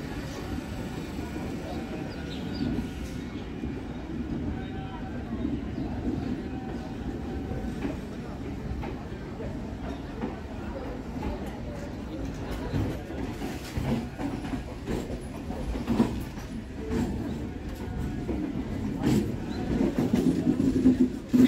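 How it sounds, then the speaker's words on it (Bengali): A Habra local train pulls into the station, producing a moderate, continuous rumble with some clickety-clack of the wheels and scattered clanks, heard at a middling distance. "এটা হাবড়া লোকাল ঢুকছে।"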